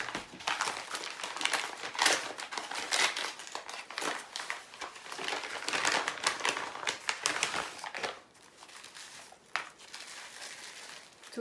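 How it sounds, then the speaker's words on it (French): A padded mail envelope being opened close by, with continuous crinkling, crumpling and tearing of paper and plastic that fades to softer rustles near the end. "je suis en train d'ouvrir l'enveloppe"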